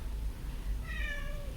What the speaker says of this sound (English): And now my cat wants to come in.